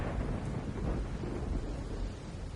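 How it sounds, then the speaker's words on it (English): A deep, rolling thunderclap in the video game Root Film, a loud broad rumble that fills the short moment without any voices. "There was another huge clap of thunder, and the screen went white"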